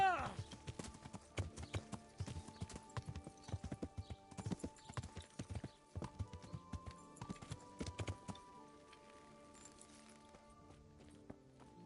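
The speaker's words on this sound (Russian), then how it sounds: "Как вам моя лошадка?" Steady clip-clop of horse hooves in a quick rhythm in the video game Kingdom Come: Deliverance, fairly close, then fading to a softer background around the end.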